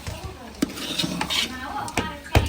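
A utensil stirs mixed vegetables with turmeric in a metal pan, producing irregular close scrapes and sharp clinks against the pan.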